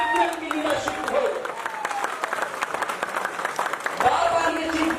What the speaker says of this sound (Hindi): तालियां सभी लोग को बजाना है